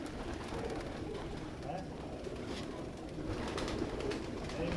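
Pigeons coo softly and repeatedly in a pigeon-keeper's loft where a record-holding bird is kept, the calls half buried under steady background noise and some indistinct voices.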